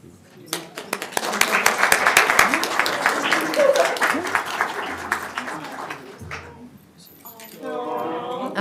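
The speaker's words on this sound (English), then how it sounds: "Can we please clap for him?" A roomful of people at a school board meeting clap in support of a nervous presenter, a loud, steady patter that swells and then thins out, followed by brief talking near the end.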